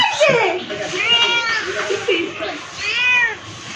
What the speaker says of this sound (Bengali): এই পেটু শোনা, দুষ্টু বিড়াল, এই দুষ্টু, এই ভর দুপুরে তুমি গাছে উঠো কেন?